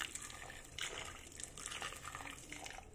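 Hot water runs and splashes over raw chicken as it is washed in a kitchen, a steady, quiet trickling and gushing with no break.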